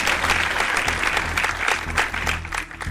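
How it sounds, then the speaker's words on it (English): Audience applause for a woman being introduced on stage, a steady wash of clapping with a low rhythmic music bed running underneath throughout. "Give her a round of applause,"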